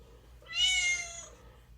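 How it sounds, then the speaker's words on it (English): A single drawn-out cat meow, bright and clear, rising and then fading over about a second against a faint low hum. "Which means that is a cat"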